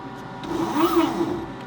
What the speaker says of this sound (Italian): La macchina fa una scansione della superficie curva sulla quale andrà poi a incidere la nostra grafica.